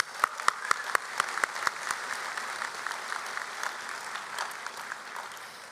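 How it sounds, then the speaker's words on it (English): A high school graduation audience applauds. A few sharp, distinct claps ring out at the start before blending into a steady crowd of clapping that holds at moderate volume. "Let's give another round of applause."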